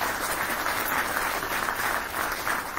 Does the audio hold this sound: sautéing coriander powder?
no